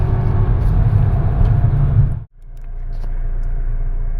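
A 2018 Volvo XC60 engine idles with a loud, steady low rumble close by. It dips abruptly for a moment partway through, then settles into a quieter, even hum.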